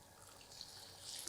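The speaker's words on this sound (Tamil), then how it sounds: "இந்த சூடான கொதிக்கிற தண்ணியை சேர்த்துக்கலாம்." Hot boiling water pours into semolina in a pan for rava oats kichadi, a brief soft splashing trickle heard faintly and close, with no talk over it.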